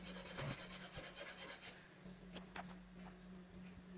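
A metal hand file rasps against the edge of a SIM card in close, steady back-and-forth strokes, a dry scraping rhythm with no talking.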